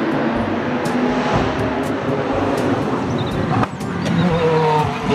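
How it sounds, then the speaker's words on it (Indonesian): A toy race car whirs with a continuous buzzing drone, close and fairly loud, with a brief dip near the end before it picks up again. "Mobil balap."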